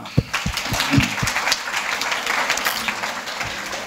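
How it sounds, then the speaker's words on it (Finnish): An audience at a sleep-health lecture claps steadily for a few seconds, a moderate and fairly distant wash of applause with a few sharper individual claps near the start. "No niin, kiitoksia vielä taputukset Timolle"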